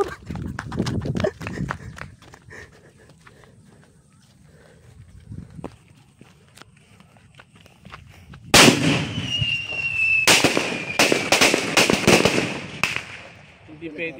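Phoenix Thunder 200-round fireworks cake going off: after a quieter stretch with voices and scattered pops, a loud, rapid barrage of sharp explosive bursts erupts about midway and keeps crackling to the end.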